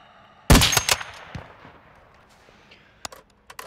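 Sniper gunfire in Call of Duty MW2 DMZ: one loud, close rifle crack with a quick rattling follow-up that fades, then two fainter distant shots near the end.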